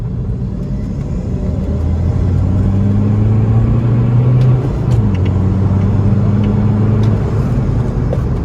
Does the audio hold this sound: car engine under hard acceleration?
yes